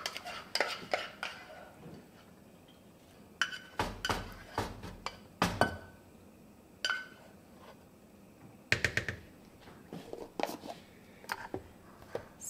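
Tomato mix being ladled and split between two pots, with scattered clinks and clanks of utensils against metal pots in a quiet kitchen, the sharp knocks coming in small clusters with pauses between.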